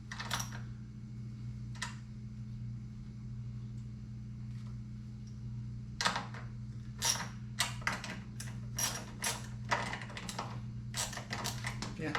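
Bolts being tightened on a motorcycle smart screen mount: a run of sharp, close metallic clicks arriving in irregular bursts over a steady low hum.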